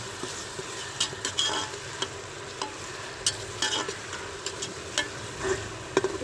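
Garlic, ginger and chilies fry in a pan for aloo gobhi, a steady close sizzle broken by frequent scraping clicks of stirring, with no talking.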